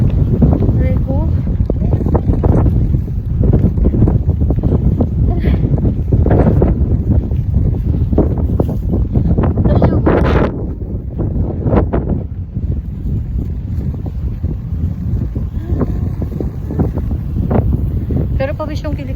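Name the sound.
strong wind blowing, wind noise on microphone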